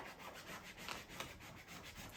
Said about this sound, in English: you can use a little smoothing paddle to help smooth it as you go